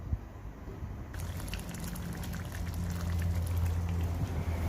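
Potato and chickpea curry simmering in a pan gives a steady low bubbling and faint liquid crackle, close and continuous, growing slightly fuller toward the end with no voices.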